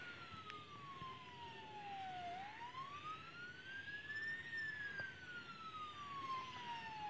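Ambulance siren in the TheoTown city-building video game, a loud continuous wail sweeping slowly down, then up and back down, with no talking over it.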